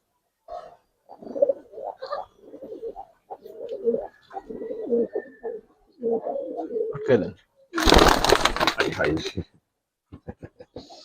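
Giribaz pigeons coo in soft repeated bursts while people talk over them near a pigeon market stall, with a brief loud rustle or flutter partway through.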